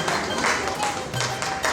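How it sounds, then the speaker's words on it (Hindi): An audience at a wellness achievers' gathering in Jim Corbett claps together in a dense, steady burst of applause that lasts the whole moment, with a voice faintly mixed in. "जोरदार तालियां ताली तो बजा दीजिए प्लीज"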